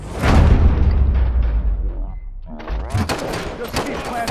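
Rapid gunfire and booming blasts in RoboCop: Rogue City, a loud dense burst that thins into a short lull before more shots, with voices talking over the action.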